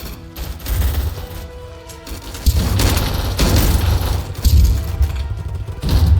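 Booming grenade explosions and bursts of gunfire fill a Vietnam War video game battle, with loud, close blasts around 2.5 and 4.5 seconds among continuous rattling shots.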